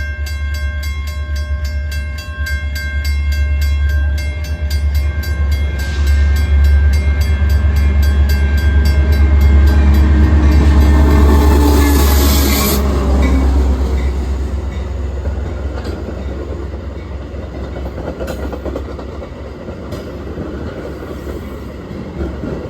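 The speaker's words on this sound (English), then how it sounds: "This one being led by Metro MP36PH number 401 with a Metro sticker number lettered Ollie Oliver Tibbles." A Metro commuter train led by MP36PH locomotive number 401 passes close by, with a loud, sustained diesel rumble, a brief horn blast partway through, and rolling wheel and rail noise fading as the cars go by.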